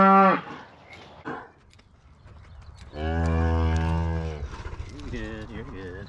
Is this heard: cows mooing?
yes